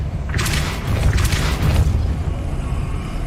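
The Depulso spell cast in the video game Hogwarts Legacy, a deep booming magical blast with a rumbling low end and a few crackling bursts, loud and close.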